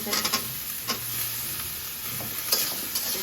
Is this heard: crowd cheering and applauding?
no